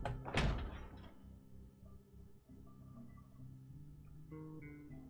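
Knocking on a door in the zombie survival game Project Zomboid: a heavy wooden thump near the start, followed by a low steady hum of game ambience and soft intermittent tones.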